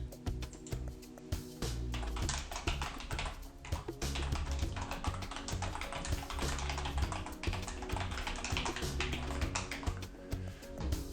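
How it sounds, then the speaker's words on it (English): Email message typed on a computer keyboard: a steady, fast patter of close key clicks and taps running throughout, with brief pauses. "I've typed in the message, and I'll just click send"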